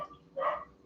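A dog barks once at a distance indoors, a single short muffled bark rising briefly over quiet room tone, with no talking.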